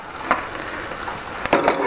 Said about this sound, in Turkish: kıyma ve soğanı birleştirdikten sonra 2 dakikada birlikte pişiriyorum